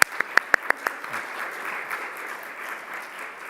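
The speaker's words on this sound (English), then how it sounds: "I just wanted us to give her a round of applause for everything that she does." Audience at a clinical medicine CME conference applauding, a few sharp close claps at first settling into steady, moderate applause from a room of people.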